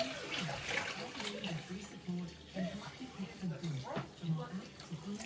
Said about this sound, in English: now we're going to pour it all into one